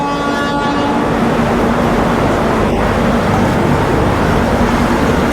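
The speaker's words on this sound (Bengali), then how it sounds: "তো বন্ধুরা, চলুন ট্রেনে উঠে পড়ি।" A double-decker express train running from Bangalore to Chennai fills the air with a loud, steady rumble and wheel roar, with a faint horn-like tone near the start, heard up close and without talk.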